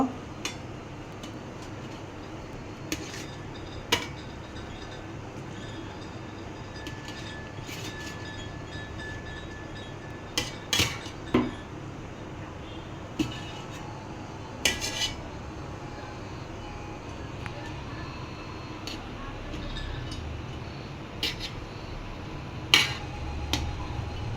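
Koi fish paturi wrapped in banana leaf, steamed in a pan, gets flipped over, giving scattered sharp clinks and clatters of utensil against pan above a steady low kitchen hum, with no talking.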